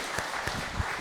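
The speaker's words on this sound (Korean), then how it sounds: "우리 하나님께 영광의 박수 올려드리도록 하겠습니다" A brief burst of congregation applause at a church worship service, a short wash of clapping with a few sharper claps standing out.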